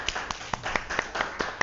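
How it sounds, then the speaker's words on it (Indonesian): Brief classroom applause for a student group, with several sharp, separate claps in a loose rhythm, fairly close and moderately loud. It sounds like only a few pairs of hands, and no voices come through. "Tepuk tangan untuk kelompok 1."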